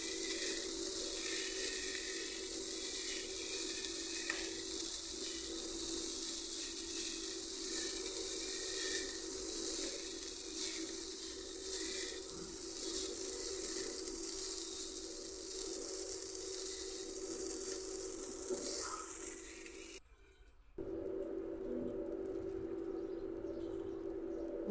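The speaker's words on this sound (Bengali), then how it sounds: "এখন ভালোভাবে নাড়াচাড়া দিয়ে সবগুলো সবজির সাথে পোলাওটা আমরা মিশিয়ে নিচ্ছি" Boiled pulao rice being stirred together with vegetables in a hot pan for chicken fried rice, a steady broadband sizzle running throughout with faint scraping, then a brief drop near the end before the frying hiss resumes.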